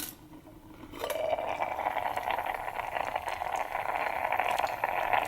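Lemon chicken rice simmering in a pot on a small alcohol stove outdoors, a soft steady bubbling hiss that starts after a quiet first second and continues faintly, barely boiling, with occasional small clinks.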